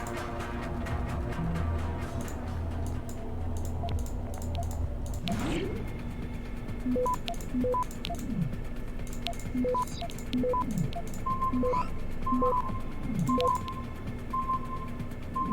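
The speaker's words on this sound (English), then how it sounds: "Just hack this door." Door hacking in the Deus Ex: Human Revolution video game: a low hum gives way to a whoosh, then a run of short electronic beeps and chirps in an irregular rhythm, close and clear, with no talk.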